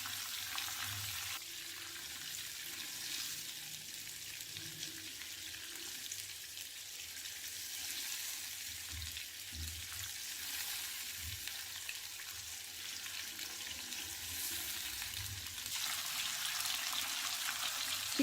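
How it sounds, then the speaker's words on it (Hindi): Chicken pieces frying on a high flame until golden brown, giving a steady, even sizzle that holds throughout without any talking. "हाई फ्लेम पे इसे गोल्डन ब्राउन कर लेंगे।"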